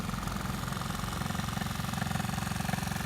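A 1970 Honda Z50 mini bike engine idles steadily with a quick, even low putter, fairly quiet and close, with no talking.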